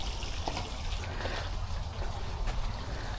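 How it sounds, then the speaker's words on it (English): Swimming pool fountains pumping water give a steady, close splashing trickle with a low churning rush underneath. "Fountains are pumping."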